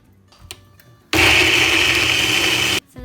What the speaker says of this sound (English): We're gonna blend it